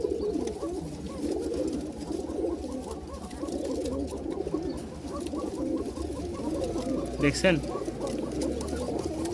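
Rajshahi Giribaz pigeons coo in steady repeated rolling calls, one pair answering another, over a constant background hum, with someone talking briefly nearby.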